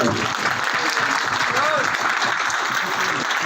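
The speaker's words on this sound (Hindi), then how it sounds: "जोरदार तालियां, जोरदार जोरदार," A crowd at a motivational sharing session by a Punjab Police sub-inspector breaks into steady, dense applause that stays loud and even throughout, with no one speaking over it.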